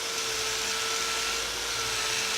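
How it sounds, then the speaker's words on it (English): A Vortex abrasive wheel grinds and finishes a stainless steel fillet weld, giving a steady, loud whirring drone with a high tonal whine that holds constant throughout. "Just see how easily we can remove and finish this weld."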